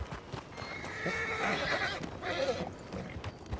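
A horse in the western game RedM whinnies loudly with a rising, shaky neigh, mixed with hoof clip-clops and snorts nearby, all inside the game's outdoor soundscape.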